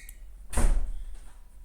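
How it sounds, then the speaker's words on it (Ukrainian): A door closes in a classroom, making a single short thud partway through that fades quickly into quiet room tone. "закроет дверь, потому что у меня урок"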